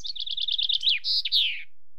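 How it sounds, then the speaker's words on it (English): A bird sings alone: a quick series of about eight high, evenly spaced chirps, then a few longer sweeping whistled notes, clear and close against silence. "Tweet, tweet, says the bird."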